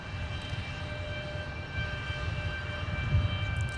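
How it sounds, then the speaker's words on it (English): Jet airliner with Pratt & Whitney PW4000 engines at Minneapolis–St. Paul airport, a steady broad roar with low rumble and faint engine tones, close and continuous with no voices. "the sound pressure waves that are generated out the back of those Pratt & Whitney PW4000 engines"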